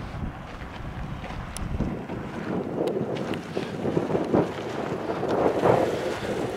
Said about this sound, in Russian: Здесь всегда ветерок.